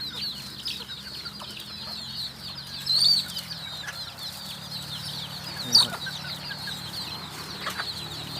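Bantam chickens clucking in a breeding pen, with steady soft clucks and chatter throughout and a couple of brief louder calls or wing flaps, heard alone without talk.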